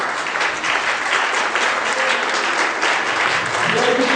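Steady, dense applause from a theatre audience during a comedy show's ticket draw, sustained clapping filling the room for the whole span.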